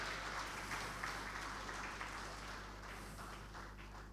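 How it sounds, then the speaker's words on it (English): Sustained applause from guests at an insurance brokers conference dinner party, a steady dense patter of many hands clapping over a low hum, fairly soft and distant throughout. "Now, special round of applause for Hajia as she steps off for here."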